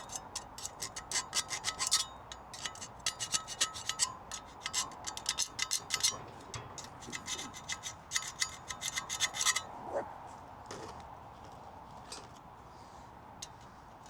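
Metal camp stove parts are roughened by hand ahead of JB Weld, giving close, rapid rasping strokes in steady bursts that stop partway through, leaving a quieter stretch with a few faint scrapes.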